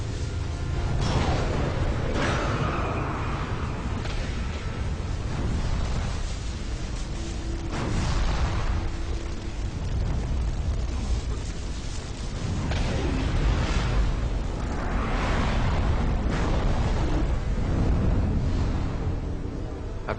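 A wildfire sweeps over a fire shelter, making a loud continuous roar with surging gusts and rumbling bursts that rise and fall for about twenty seconds, with no talking.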